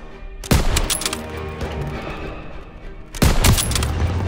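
Call of Duty WWII gunfire in a street battle, two loud close bursts of rapid shots separated by a lull, with echoing rumble and scattered distant shots in between.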